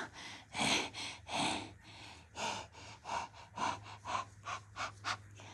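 A person imitates a dog panting, with quick rhythmic breaths and huffs repeated close to the microphone over a low background hum.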